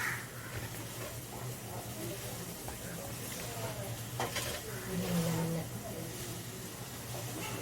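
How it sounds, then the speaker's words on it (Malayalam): A young girl stirs onions frying in a pan for a Sunday chicken curry. A steady low sizzle runs under slow, intermittent scrapes of the spoon, with a faint murmur in the background. "ഇത് സൺഡേ ആയതുകൊണ്ട് അവള് കുറച്ചിങ്ങനെ ഇളക്കിക്കൊണ്ടിരിക്കുകയാണ്."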